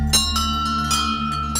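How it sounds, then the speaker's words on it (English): Temple bells ring at a place of worship, a few clear metallic strikes whose tones hang and overlap as they fade, loud and close, with no voices. "I didn't realize the significance of bells, especially around temples and places of worship"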